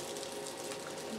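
Chicken broth is poured into a skillet with a soft, steady liquid rush that stays low and even for a moment.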